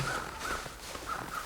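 Ravens caw overhead in the snowy wilderness game The Long Dark, giving three faint, evenly spaced calls over a steady windy hiss.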